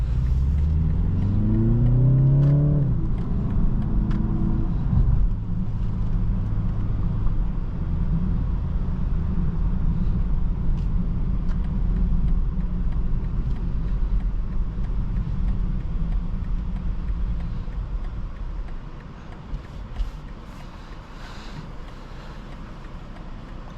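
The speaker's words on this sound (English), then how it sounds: "this is a 4-cylinder. It has a nice sound. It has a nice little rumble to it. Sounds deep." A 2023 BMW 330i xDrive four-cylinder with a deep exhaust tone revs up at the start, pitch climbing, then settles into a steady low rumble while driving, easing off slightly near the end.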